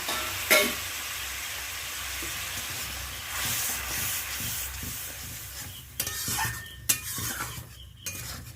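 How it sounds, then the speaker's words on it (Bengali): Ground spices for a sole fish curry being sautéed and stirred with a little hot water in a pan, a soft sizzle under scraping spoon strokes, with sharper clinks of utensil against pan near the start and toward the end. "আমি অল্প গরম জল দিয়ে এইটাকে ভালো করে কষিয়ে নেব"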